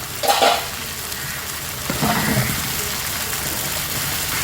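Steady sizzling and frying of okra sautéing in a pan, with a few stirring scrapes near the start, continuous and close.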